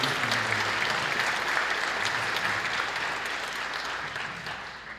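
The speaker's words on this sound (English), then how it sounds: "So round of applause for these guys." Audience applause for student musicians at a seventh-grade school band concert, a dense sustained clapping from a large crowd that fades slowly toward the end.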